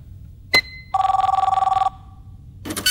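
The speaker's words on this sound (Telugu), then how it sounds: "అది ఫోన్ కాదు, ఫ్యాక్స్." A fax machine in an office rings with one close, rapid electronic trill lasting about a second. A sharp click comes before it and rustling noise follows.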